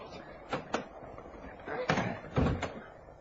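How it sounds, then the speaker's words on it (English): A door in a radio drama is unlocked and opened, heard as a few close clicks and thuds spread over a few seconds, with a rattle and a heavier bump near the end. "I'm going to unlock the door, Dorothy."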